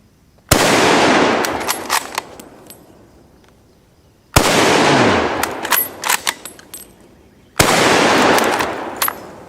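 Three loud, sharp rifle shots fired at a target outdoors, each one a sudden crack followed by a rolling echo and a few faint clinks before the next shot.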